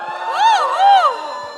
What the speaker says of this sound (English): can all the millennials in the house give me a cheer?